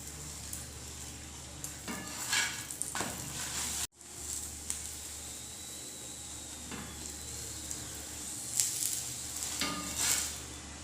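A paratha cooking on a hot pan, a steady soft sizzle broken by a few scraping stirs and metallic clinks of a utensil, with no talking.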